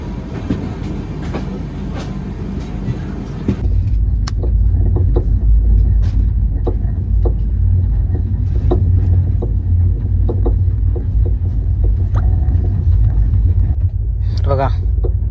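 The Mandovi Express pulling out of Ratnagiri station, a loud, close rumble and rolling clatter of rail wagons that grows heavier partway through, with a brief high squeal near the end.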